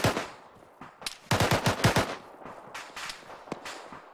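Suppressive gunfire in a shooter video game: rapid bursts of automatic shots, several clustered volleys with brief gaps, sharp and fairly close, ending in a few isolated single shots.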